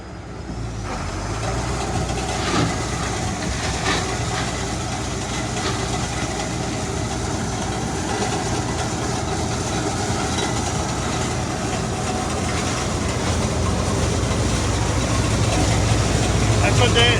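A repaired combine harvester runs with a steady, loud mechanical rumble and hum, engine noise droning continuously up close while people talk over it.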